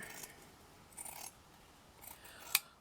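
Scissors snip a few times through paper while trimming a shabby chic paper flower, quiet close cuts with a sharp final snip near the end.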